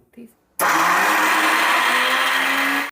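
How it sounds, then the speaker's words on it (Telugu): Mixer grinder roaring loud and steady as it blends sesame seeds with two cardamom pods for sesame laddus, starting abruptly after a brief quiet moment and running continuously to the end. "ఇప్పుడు ఇందులో 2 యాలకులు కూడా వేసి మధ్య మధ్యలో పల్స్ ఇచ్చుకుంటూ గ్రైండ్ చేసుకుందాం."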